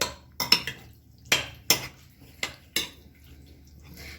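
Fish being mixed with a Thai sauce marinade in a bowl for a poke bowl, heard as about seven sharp clinks and scrapes of utensil against dish, spaced irregularly and close by.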